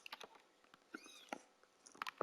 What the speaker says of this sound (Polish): mi koty tak miałczą strasznie, że to szok